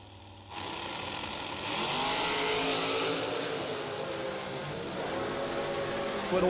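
A Hellcat Hemi-powered drag race car launches at a bracket race, its engine roaring loud and close, rising sharply into a sustained high-revving blast that fades slightly before flaring again.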